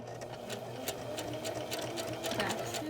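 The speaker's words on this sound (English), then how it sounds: "back stitch at the beginning" A sewing machine back stitching cloth face mask fabric at tension 3 and stitch length 3, a steady close mechanical whir with regular needle ticks running continuously for a few seconds, no talking.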